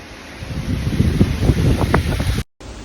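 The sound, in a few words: wind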